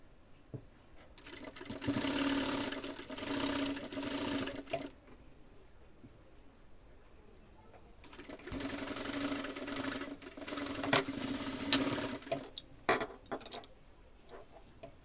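A sewing machine runs in two long stitching passes joining a panel of a maxi dress, with a quiet gap between them and a few light clicks and taps near the end, no talking.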